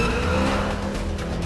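Ferrari California accelerating hard through a corner, a loud steady engine roar with a faint edge of tire scrub, close and sustained throughout with no talk.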